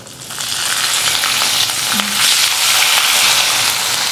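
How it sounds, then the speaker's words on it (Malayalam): A generous handful of curry leaves crackles in hot ghee with nuts and mustard seeds for sambar rice, a loud, dense, continuous sizzle with scattered pops, close up and without speech. "ധാരാളം കരിവേപ്പില ഇടുന്നു."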